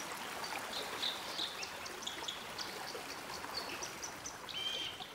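An autumn forest stream with fallen leaves gathering on its banks flows steadily, a close, even rush of water with faint bird chirps scattered over it.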